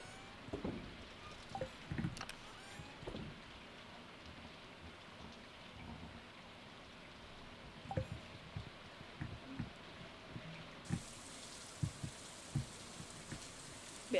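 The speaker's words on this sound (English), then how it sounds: "Man, I love the sound of the rain." Rain falls in the Stardew Valley video game, a soft continuous hiss scattered with faint drips and low rumbling thuds, quiet and steady throughout.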